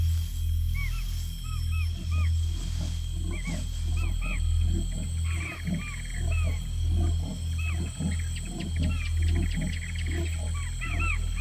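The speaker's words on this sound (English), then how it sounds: "Like all true big cats, leopards can roar." A male leopard roaring at night in Yala, Sri Lanka, a long series of deep rasping grunts in a steady sawing rhythm, close and loud over a low constant hum.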